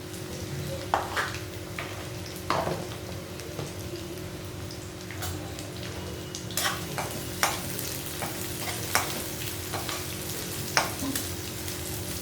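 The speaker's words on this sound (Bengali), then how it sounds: "যে পেঁয়াজটা দিয়ে দিলাম" Onions fry in a hot pan for a kachki fish dish, giving a steady soft sizzle with occasional sharp pops and stirring scrapes and clicks.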